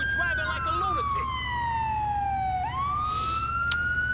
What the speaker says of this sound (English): And there goes the ambulance drivers